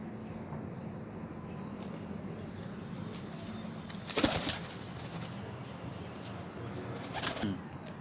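Pigeons in a loft, with two brief bursts of flapping wings and soft cooing over a steady low background hum.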